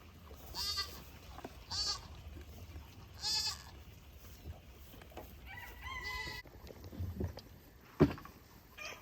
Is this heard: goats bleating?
yes